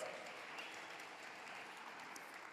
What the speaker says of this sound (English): Again, a big round of applause for our speakers.